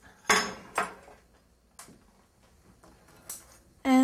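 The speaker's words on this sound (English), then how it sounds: "I tend to just mix this up with chopsticks" Chopsticks mixing vegan chocolate chip cookie dough in a bowl, a few sharp, separated clinks and taps with quiet gaps between them.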